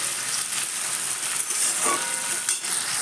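Chopped potatoes with salt frying in a pan, a steady dense sizzle filling the whole stretch, with a few soft scraping stirs and light clinks near the end, no talk.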